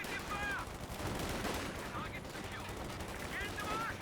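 Sustained small-arms and machine-gun fire in the World War II strategy game Company of Heroes 2, a dense, mid-distance crackle of shots. Faint voice barks come through the firing.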